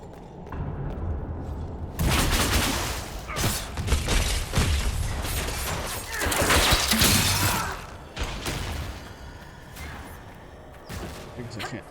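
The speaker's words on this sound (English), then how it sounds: "We've got the primers. Let's go explode some Gatlock." Explosions set off with primers to blow up Gatlock in a video game, a string of loud booming bursts and crashing thuds with mechanical clatter, over a busy game soundtrack.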